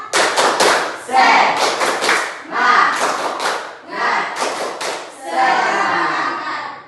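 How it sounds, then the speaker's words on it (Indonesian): Standing in a classroom, students perform a rhythmic spirit clapping chant, with loud bursts of group clapping in patterned beats separated by short gaps and voices shouting along. "Tepuk semangat."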